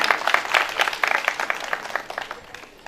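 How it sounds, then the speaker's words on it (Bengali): An audience at a school student-felicitation event claps loudly, a brisk burst of many overlapping hand claps that slowly thins out. "জোরে একটা হাততালি হয়ে যায়।"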